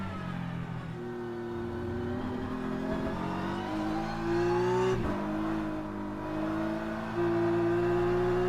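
A BMW race car engine in a racing video game drones and revs steadily, its pitch climbing through gears with short shift breaks, loud and close throughout with no voices.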